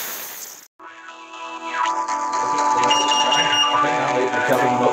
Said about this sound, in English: Detector going off in the bothy there, we may be in a slight spot of trouble.